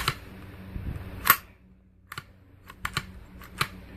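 The action of a Ruger rifle fitted with an upgraded buffer cycles with a sharp metallic clack, followed by several lighter clicks and a dull thud-clank, close and crisp in a quiet room.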